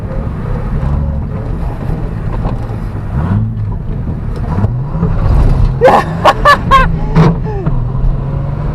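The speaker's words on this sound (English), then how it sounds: "It didn't burn out, it just chirped and it gripped." A Nissan Fairlady Z fitted with a Phantom Grip limited-slip differential lets out several short, sharp tire chirps in quick succession during a failed burnout, over a low engine rumble and some wind noise.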